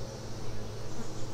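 Honeybees buzz steadily on a brood frame pulled from a hive, a dense, close, continuous hum of many wings with a faint droning texture throughout.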